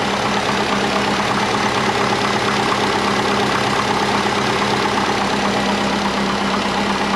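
A twin-turbo Subaru Forester engine idles steadily with a loud, even mechanical drone and a faint knocking texture. It sounds close and constant, with no voices.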